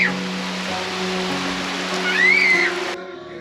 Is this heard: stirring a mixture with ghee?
no